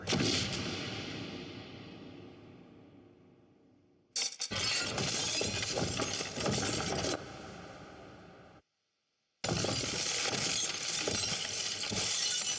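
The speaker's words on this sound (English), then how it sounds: "Our first version of this was a big stone crashing, big stone crumbling" A film sound effect of a big stone gate tower crashing and crumbling: three long, dense bursts of roaring rubble, scraping debris and shattering clatter, the first fading away gradually, the others cut off abruptly, loud and close with no talking.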